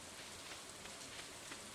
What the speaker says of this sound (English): It's a very rainy day today, which is absolutely wonderful.